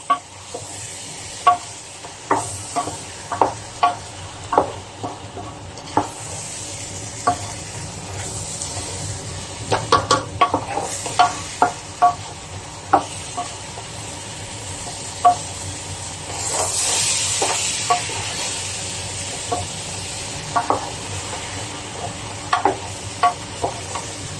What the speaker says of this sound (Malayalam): നന്നായിട്ട് ഇളക്കി ചെറിയ തീയാണ്